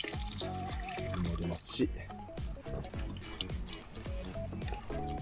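Water runs and drips from a tap at a campsite kitchen sink in Chichibu, a close splashing trickle heard throughout under a person talking.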